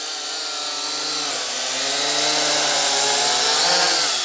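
Syma X8HG quadcopter drone hovering at low rates, its motors giving a steady, fairly quiet whirring buzz with slowly shifting pitch, heard alone and continuously throughout.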